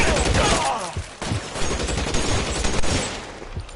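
A burst of gunfire in the L.A. Noire video game, loud and close, several sharp shots fired in quick succession and dying away into a rough tail, with no speech.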